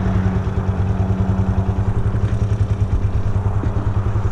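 Vento Rocketman 250 motorcycle idling in neutral, a loud, close, steady low rumble with even rapid pulsing throughout and no talking.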